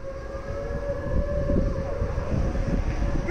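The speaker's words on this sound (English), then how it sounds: "all over the Netherlands, the public warning sirens are tested at exactly 12 noon on the first Monday of every month" A Dutch public warning siren sounds during its monthly noon test in Delft, a steady sustained wail held at one pitch throughout, loud and continuous over faint street ambience.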